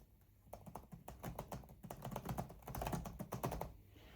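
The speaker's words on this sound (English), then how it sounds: "So that's the keyboard sound." Rapid keystrokes clatter on a Lenovo V15 G4 laptop keyboard, an uneven run of light, close taps lasting a few seconds.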